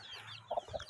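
A young hen clucks twice in quick succession, close and fairly loud over a quiet outdoor background.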